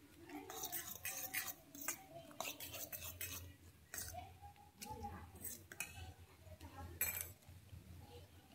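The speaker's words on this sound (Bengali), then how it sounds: "আমি ম্যাগিটাকে দিয়ে আরো ভালোভাবে মিশিয়ে নিচ্ছি" Boiled Maggi noodles being stirred into beaten egg in a bowl for an omelette, giving soft, irregular clinks and scrapes of a utensil against the dish, close and fairly quiet, with faint low hum behind.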